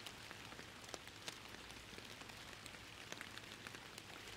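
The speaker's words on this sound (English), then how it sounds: "Listen to that rain! It's worth it for the rain." Rain pours down in the Fishing Planet video game, a steady soft hiss of falling water with scattered individual drops pattering on surfaces, fairly quiet and continuous with no talking.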